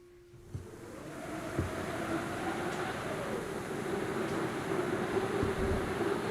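Low, steady wind-like drone with a sustained tone that bends and swells, continuous and atmospheric, with a soft thump early on and no voices, part of a song.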